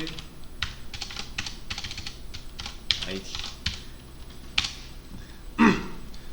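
Rapid clicking of computer keyboard keys in irregular bursts with a few sharper keystrokes, close by, while someone speaks Korean over the typing.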